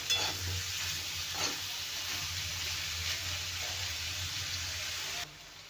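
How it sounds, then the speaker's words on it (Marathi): Carrot, beetroot and green chillies frying in oil for a chutney, a steady hissing sizzle with a few stirring scrapes, continuous and fairly close, cutting off abruptly near the end. "भाजून घ्यायचं आहे व्यवस्थित तेलामध्ये जोपर्यंत कॅरेट आणि बीटरूट नरम होत नाही तोपर्यंत छान भाजून घेऊया"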